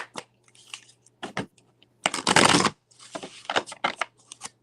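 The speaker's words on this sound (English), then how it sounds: "one more shuffle" Tarot cards being shuffled by hand at a reading table, several quick riffling bursts with one longer, louder riffle in the middle, close and crisp, with no talking.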